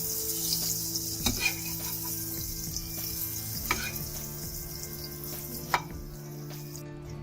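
A besan-coated sandwich sizzles steadily in a hot frying pan right after being flipped. The crackling frying noise is continuous and close, broken by a few light clicks and clatters of the pan, with no voices.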